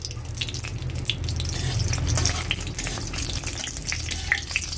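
Chopped onion fries in oil in a pan for a spiced fish head and potato curry, a steady, fairly loud crackling sizzle with small pops throughout and no voices.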